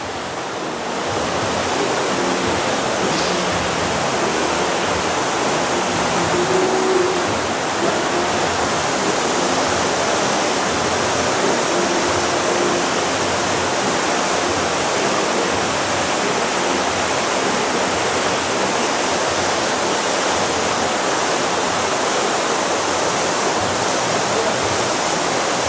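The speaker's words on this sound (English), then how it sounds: "that waterfall's almost as beautiful as you" A waterfall in Las Vegas pours with a loud, steady, broadband rushing roar that holds constant throughout, with no clear voices above it.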